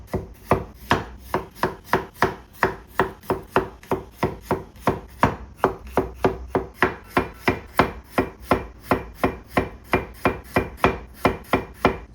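Garlic cloves are sliced with a knife on a cutting board in steady, rapid chops of about three per second, roughly three dozen crisp close strokes in all, with no voices.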